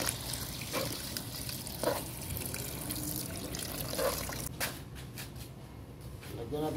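Water is poured into pork adobo as it cooks, a steady trickling splash over background kitchen noise and sizzling, with a brief clatter near the end.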